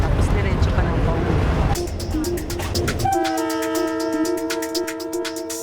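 A PNR passenger train runs on its rails, a loud steady rumble of cars that gives way to sustained tonal horn blasts over continuing track noise; voices carry faintly in the background.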